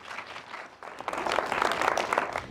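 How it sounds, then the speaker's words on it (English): An audience at an evening lecture in Cleveland, Ohio applauds to welcome the speaker, with a dense, fairly loud round of clapping that swells after a quieter start and carries no talk. "a very warm round of applause for Scott Cowen"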